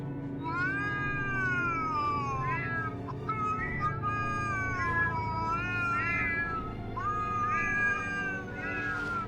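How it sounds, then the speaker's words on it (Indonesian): A cat meows repeatedly in long, drawn-out, wavering cries, close and loud, over a low steady background hum. "Seperti suara kucing."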